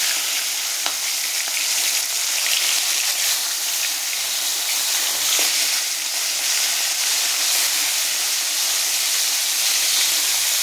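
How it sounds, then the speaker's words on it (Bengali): Fish fry in hot oil in a pan, giving a loud, steady, close sizzle and hiss that runs continuously with small crackles and no voices. "তো মাছগুলো ভাজা হচ্ছে"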